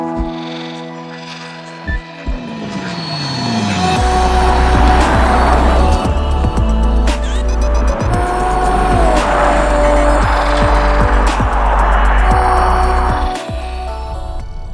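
A Mercedes S-Class limousine on a road test, starting with steady engine and road hum before a loud surge at about 4 seconds. The acceleration builds to a strong, sustained drive sound with rising and falling engine tones as it gets under way, with no talk.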